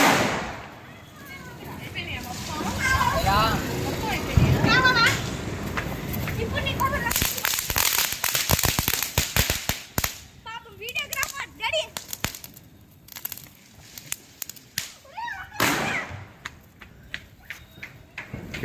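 Firecrackers bursting at a Deepavali celebration: a rapid crackling string of sharp bangs, then scattered loud cracks and pops at varying distances, with people's voices talking and calling out between the bursts.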